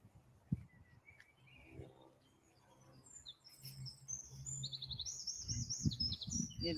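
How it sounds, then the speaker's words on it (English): Small birds chirp and twitter outdoors in a volunteer-run park area, with bright overlapping calls growing busier toward the end over a soft low rumble of outdoor background. "Hear the birds."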